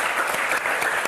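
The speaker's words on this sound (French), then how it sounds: "Et on va s'arrêter et vous applaudir très fort." A television game show studio audience claps for the contestants, a brief burst of dense, steady applause filling the whole moment at close range.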